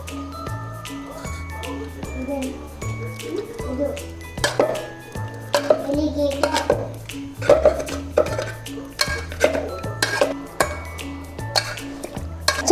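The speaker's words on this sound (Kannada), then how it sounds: "ಸ್ಮ್ಯಾಶ್ ಮಾಡ್ಕೊಳ್ಳೋಣ" Cooked drumsticks for drumstick soup are mashed in a metal pot with a utensil, giving repeated clinks and scraping knocks over steady background music.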